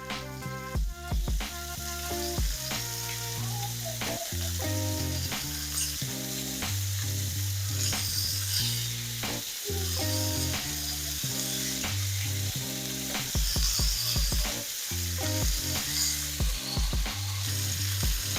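Chicken frying in a frying pan, giving a loud, steady sizzle and crackle close up that runs unbroken for the whole stretch, with no talk.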